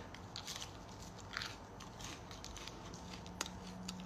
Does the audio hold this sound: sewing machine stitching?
no